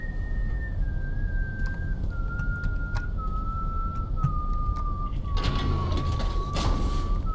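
A single long whistled note in the video game Consortium holds steady and drifts slowly lower in pitch, sounding over a constant low hum with scattered soft clicks and no talking.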